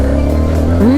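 An NK 150 dirt bike engine holds a steady low throb and then rises in pitch near the end as it revs, loud and close.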